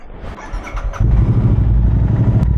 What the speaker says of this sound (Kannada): ಸೊ ಗಾಡಿ ನಾವು ವಾಮಪ್ಪಿಗೆ ಬಿಡಬೇಕು